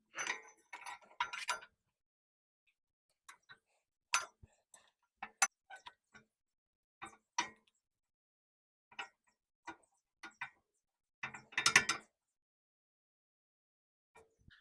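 A ratchet tightens the nut on an Acura Integra shock in quick bursts of sharp metallic clicks separated by pauses. The sound is close and fairly faint against near silence.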